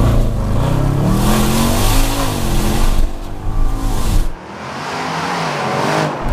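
A tuned 650 bhp Jaguar XJL Autobiography revs loudly and close, its engine note rising and falling through a throaty roar before cutting sharply to a lower, steadier drone.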